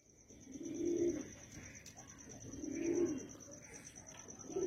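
Pigeons coo in two low, rolling bursts a couple of seconds apart, close by, over a steady high whine and faint background chatter among birds offered for sale.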